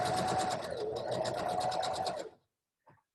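A Baby Lock sewing machine stitches a seam in a fast, even whir of needle strokes that stops abruptly, followed by a brief soft clunk.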